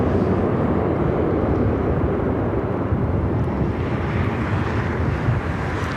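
Airliners arriving at LAX airport make a steady, loud jet roar with wind rumble, filling the whole stretch without a break and with no voices.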